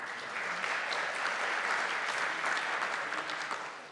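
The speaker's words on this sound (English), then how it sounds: "Please give her a round of applause." Steady, dense applause from a conference audience fills the room continuously, then fades slightly at the end.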